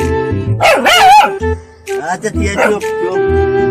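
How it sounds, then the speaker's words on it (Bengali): A very angry dog barks and yips close by in loud, repeated bursts, with people talking over and between the barks. "এই কুকুরটাকে দেখে খুব চিল্লাচ্ছে,"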